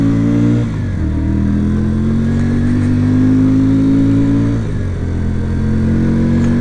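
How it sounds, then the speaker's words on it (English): A 2025 QJMotor SRV 125 cruiser motorcycle accelerating through the gears, engine note climbing in pitch, dropping at each shift and rising again, loud and close. "It does sound really nice when you're taking it through the gears."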